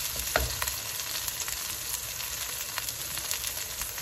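Green chillies frying on a tawa in a pan with roasted masala for fried masala baingan, a steady close sizzle with faint stirring scrapes throughout, no talking.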